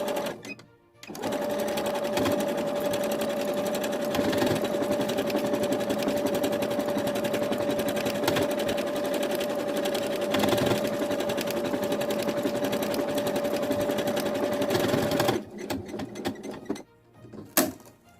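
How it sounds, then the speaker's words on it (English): A domestic sewing machine stitches a buttonhole in one long steady whirring run of about fourteen seconds, loud and close, with brief handling clicks before and after. "I will start sewing."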